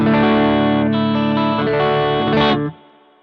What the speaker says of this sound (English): I want to go spring reverb. I love spring reverb.